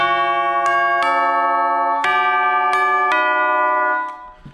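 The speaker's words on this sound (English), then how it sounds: "Chimes." Short commercial jingle played on tubular chimes: six bright struck notes at irregular intervals, each ringing with long metallic overtones that overlap and sustain, then fade at the end, with no voices.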